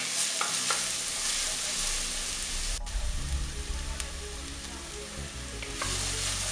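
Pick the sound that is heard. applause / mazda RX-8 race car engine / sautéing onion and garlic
sautéing onion and garlic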